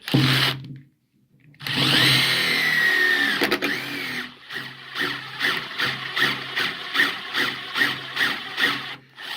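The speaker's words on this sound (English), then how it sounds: "Let's see if we can't get this guy to drill through now." A cordless power drill whines and grinds close by, stopping briefly, then chattering in repeated pulses as it drills through wood.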